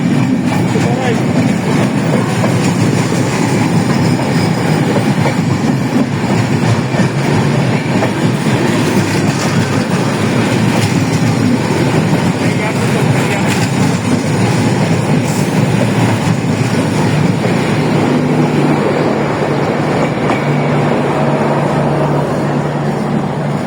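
A train passes through a station, a steady loud rumble with clattering wagon noise running the whole time, with voices talking underneath.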